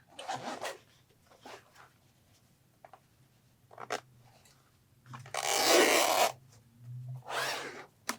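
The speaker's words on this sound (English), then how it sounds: "Go ahead and zip your zipper." A zipper sewn into a pillow cover rasps in several short pulls, then two longer drawn-out zips, quiet and close with pauses between.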